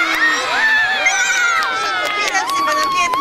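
A crowd of children and adults in Veszprém cheers and shouts for Santa Claus, the visiting Finnish Joulupukki, with loud overlapping voices, whoops and some scattered clapping throughout.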